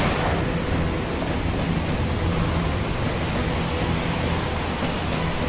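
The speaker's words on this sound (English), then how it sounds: "The wind blew harder, the waves grew huger" Roaring wind and crashing waves fill the whole stretch, a dense, steady storm noise with no pauses, loud and close.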